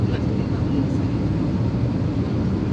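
Airplane engine drone as a passenger flight carries people toward Iraq, a steady broadband rumble holding even and loud throughout without rising or fading.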